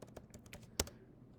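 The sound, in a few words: typing AutoCAD command on computer keyboard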